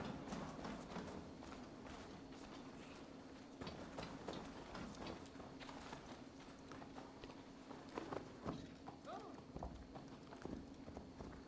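Horse hooves from Assassin's Creed Valhalla, a fast, continuous clip-clop gallop at moderate volume, with talk heard over the hoofbeats.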